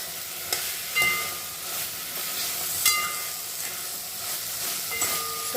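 Soybean chunks sauté in spice masala that has released its oil, for a soybean khichdi. A steady close sizzle with scattered spoon scrapes and clicks, with no talking.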